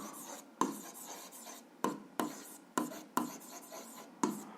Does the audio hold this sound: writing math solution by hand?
yes